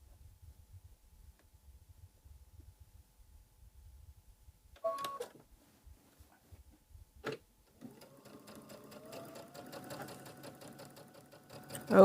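A sewing machine stitches borders onto a quilted star pillow, with quiet handling at first, a brief whir, then a steady mechanical hum and rapid needle chatter building over the final seconds, close and clear.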